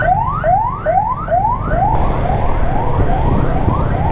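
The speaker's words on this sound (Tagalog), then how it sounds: "Pagbigyan natin ang ambulansya." An ambulance siren whoops upward in repeated rising sweeps, about five quick cycles, then fades into a blur over steady low traffic rumble.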